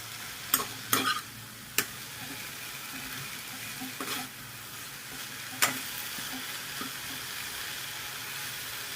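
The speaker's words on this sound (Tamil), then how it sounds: "எல்லாம் ஒன்றா சேர்த்து நல்லா வதக்கணும். நல்லெண்ணெய் போட்டு வதக்கணும்." Pirandai (adamant creeper) and garlic sauté in a little sesame oil in a pan, giving a steady soft sizzle broken by sharp spoon scrapes and taps, with no talking.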